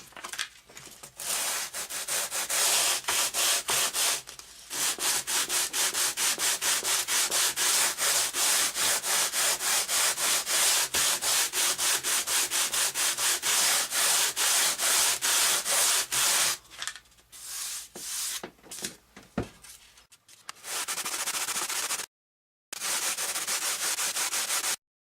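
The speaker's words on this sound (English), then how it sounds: "I want to sand it flat." A part for an F-86 RC airplane is sanded flat by hand, giving rapid, rhythmic back-and-forth rubbing strokes that run continuously up close, then break into shorter bursts with brief pauses.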